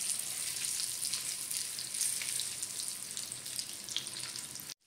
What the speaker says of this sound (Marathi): हलक्या हाताने आपण हे अंडे पलटी करून घेणार आहोत आणि दुसऱ्या बाजूने देखील छान असे परतून घ्यायचे आहेत